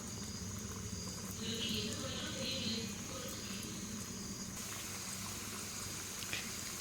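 Small gobi manchurian batter balls fry in hot oil, a steady dense sizzle and bubbling that runs the whole time at close range, moderately loud with no talking.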